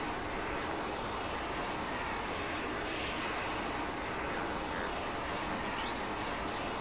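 A continuous loud helicopter engine roar in the video game Arma 3 fills the whole stretch without pause, with faint higher sounds flickering in the background.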